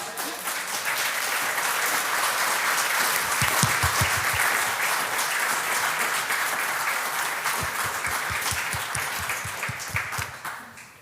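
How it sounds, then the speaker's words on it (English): A lecture audience breaks into sustained applause, many hands clapping in a dense, even wash that swells in the middle and keeps going for the whole stretch, with no talk over it. "Yes, applaud."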